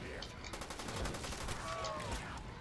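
Repeated gunshots in a Call of Duty: World at War zombies map, a quick run of evenly spaced shots fairly faint under game noise and background ambience.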